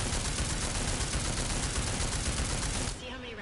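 Sustained, dense gunfire from weapons in the video game Deus Ex: Mankind Divided, a loud continuous roar of rapid shots that cuts off sharply near the end, with voices faintly underneath.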